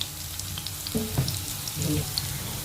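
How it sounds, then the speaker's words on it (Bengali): Chopped onion drops into hot oil where garlic and green chilli are frying, giving a steady close sizzle with a couple of brief stirring scrapes and no talk. "রসুনটা ভাজার সময় মা এর মধ্যে দিয়ে দেবে পেঁয়াজ কুচো"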